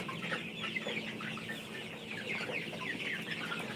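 A flock of chickens on a poultry farm clucks continuously in a dense, busy chorus while litter is being turned over, with no voices.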